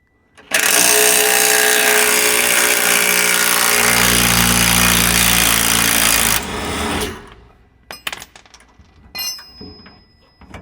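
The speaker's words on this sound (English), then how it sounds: "I got this little 12 volt little impact gun" A small 12-volt cordless impact gun fitted with a chrome socket hammers loudly on a bolt for about six seconds during Silverado brake and suspension work. The rattling burst then cuts off, and sparse clanks of tools follow.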